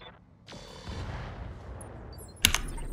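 BattleTech mechs fire weapons in Roguetech, with a rushing shot at the start, a rumbling tail, and a sharper cracking burst near the end, all moderately loud and without speech.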